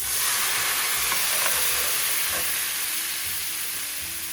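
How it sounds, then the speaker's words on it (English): Red wine poured into a hot pan of meat, oil and pepper for pasta all'amatriciana, giving a loud, steady, close-up hiss and sizzle that holds throughout and eases only slightly toward the end. "Now deglaze the pan with the wine."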